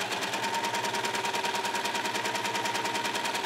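A sewing machine runs tulle fabric straight through to gather it, giving a steady, fast, even mechanical chatter that stays close and constant throughout with no pauses.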